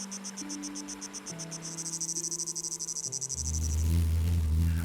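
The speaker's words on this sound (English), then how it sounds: "With some insects." Insects chirping in a rapid pulsing trill from the game Season: A Letter to the Future, bright and close, sounding alone over soft held music tones before a deep low swell takes over at the end.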